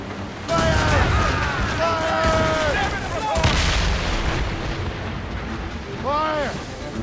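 Ship cannons firing in Assassin's Creed Rogue during a naval battle, heavy booms and rumbling blasts amid shouted orders from the crew, with ringing tonal calls cutting through the barrage.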